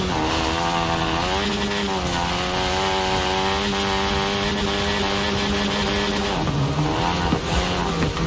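Car engine in Forza Horizon 4 during an Eliminator round, a loud sustained droning whine with a steady pitch that holds throughout and drops near the end, with no voices over it.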